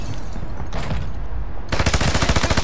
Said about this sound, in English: Gunfire to the west, northwest